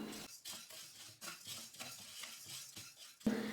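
Chana dal dry roasting in a kadai, stirred so the lentils rustle and scrape in repeated rhythmic strokes, close and clear, ending with a louder clink of a utensil; no talking.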